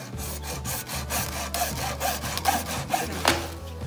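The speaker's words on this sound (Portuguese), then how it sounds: "Eu tô aqui com um arco de serra e a segueta, que vamos serrar aqui certinho" A hacksaw bow with its blade cuts through an old 100 mm PVC tee pipe fitting, with steady back-and-forth strokes rasping rhythmically and up close, no voices.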